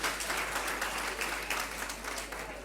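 An audience at a high school quiz contest applauds steadily throughout, a dense wash of clapping with no voices standing out.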